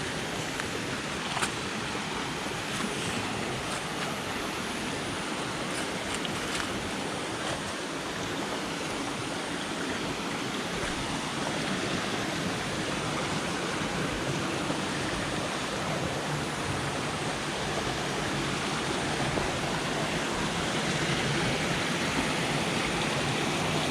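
Water pours steadily over bedrock at Sungai Pandan Waterfall near Kuantan, Malaysia, a loud, continuous broadband rush close by that holds even from start to finish, with no voices.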